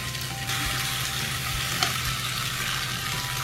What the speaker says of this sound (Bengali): মিডিয়াম আঁচের চেয়ে কম আঁচে এটাকে ভেজে নিতে হবে।